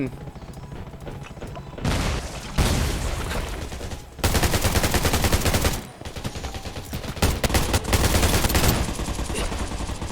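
Bursts of rapid automatic gunfire with heavy booms in the video game Undawn, loud and sustained, pausing briefly before resuming in dense volleys.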